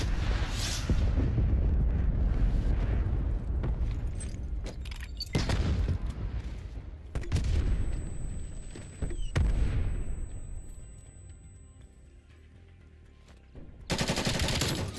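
Cruise missile strikes in Black Ops Cold War land as a chain of heavy booming explosions with rolling gunfire-like crackle, several big blasts spaced across the stretch and a final loud burst near the end.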